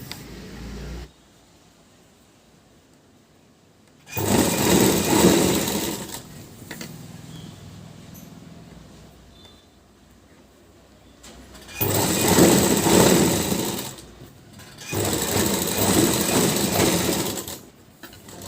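A sewing machine stitches the neckline of a blouse in three bursts of fast, buzzing whir separated by quiet pauses, close and fairly loud, with no talking over it.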